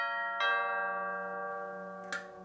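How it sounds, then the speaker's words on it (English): A doorbell chimes in a clear two-tone ding-dong, the second strike following about two seconds after the first, each tone ringing out and slowly decaying in a quiet room. "The doorbell goes"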